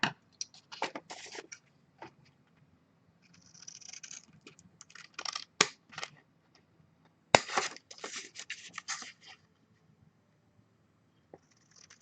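Scissors cutting paper for a handmade mini notebook, clusters of soft crisp snips and rustles coming in bursts with quiet gaps, close up and fairly faint.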